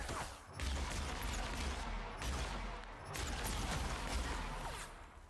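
Sustained bursts of gunfire ring out in The Outer Worlds, a dense, loud crackle of shots that runs through the whole stretch and rises again after a short lull, with no voice over it.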